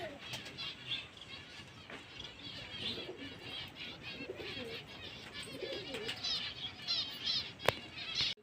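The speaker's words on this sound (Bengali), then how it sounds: "এই যে দশটি পায়রা এই একসঙ্গে উঠছে" A flurry of wing flaps as a flock of pigeons lifts off together, with soft cooing and chirps nearby and a sharp click near the end.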